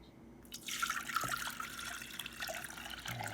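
Water pours steadily into a pot, a close splashing rush that settles into a continuous stream.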